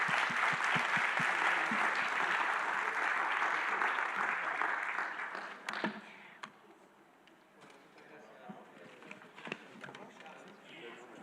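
A conference auditorium audience at a regional forum applauds a panel, dense clapping filling the first half before fading out, leaving scattered taps and room noise and a few voices.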